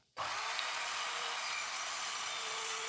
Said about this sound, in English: So here I'm starting to cut out the main back, sides and base.